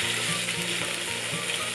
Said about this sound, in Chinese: 鸡胸肉呢，其实它气炸煎都可以，那我们直接用煎的